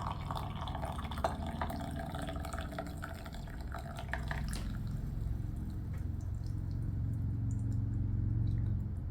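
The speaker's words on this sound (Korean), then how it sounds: "자, 똑똑똑 다 떨어질 정도까지 물을 부어 주시고요" Hot water trickles and drips through a tea strainer while flower tea is steeped, a soft continuous liquid patter that thins toward scattered drips, close and quiet with no talk.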